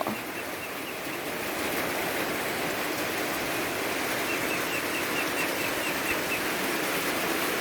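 Steady, even rain hisses continuously throughout, a dense wash of pattering with no talking.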